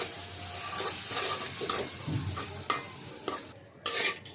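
Spice paste of garlic, salt, chili, turmeric and coriander powder fries in a pan for a vegetable curry with small shrimp, making a continuous sizzle broken by repeated scraping stirs and spatula knocks, close and fairly quiet.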